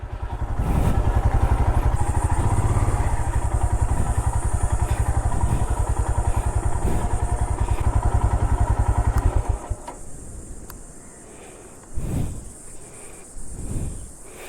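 Motorcycle on a rough Konkan coastal road, riding slowly at low throttle, a close, steady, loud engine putter that cuts out near the end, leaving a faint high insect-like hiss and a few thumps.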